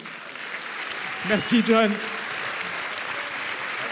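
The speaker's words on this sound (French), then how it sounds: "vous pouvez l'applaudir bien fort" An audience applauds film director John Carpenter after an onstage discussion, a steady broad wash of clapping that continues throughout while someone briefly speaks over it.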